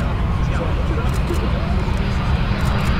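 A jet aircraft lands at Farnborough Airshow with reverse thrust, a loud continuous roar of engine noise blanketing everything, with people talking faintly underneath.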